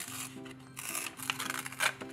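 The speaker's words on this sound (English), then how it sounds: "Okay, so I'm crumpling up the pages," Paper book pages being crumpled and torn by hand, giving a string of dry crackling rustles and rips in bursts over a faint steady hum, with no talking.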